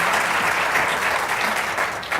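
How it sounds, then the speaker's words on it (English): Audience at a school district Martin Luther King Jr. tribute giving steady, sustained applause, a full room clapping evenly throughout. "Let's give Colin a warm round of applause."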